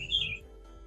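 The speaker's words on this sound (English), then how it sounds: "as the bird sang" A single bird gives one bright whistled chirp, fairly clear and a little distant, followed by quiet room tone with no talk.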